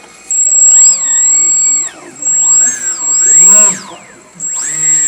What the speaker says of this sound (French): Si tu veux tester les petits moteurs,